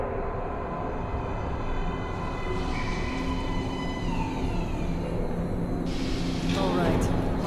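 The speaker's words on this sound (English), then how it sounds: "Train coming in." A train pulls into a metro platform in the video game Metro Last Light, a loud, steady rumble of wheels and carriages with a rising metallic squeal near the end.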